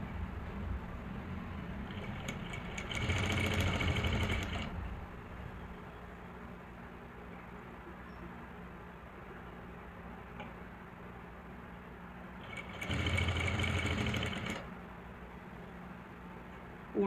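A sewing machine attaches a zip to a lehenga blouse, running in two short bursts a few seconds each, separated by a long quiet stretch of low hum.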